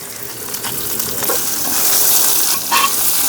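Chopped red shallots fry in a pan with roasted rice for a Kerala tamarind dish, giving a steady, continuous sizzle with occasional stirring scrapes and brief louder crackles.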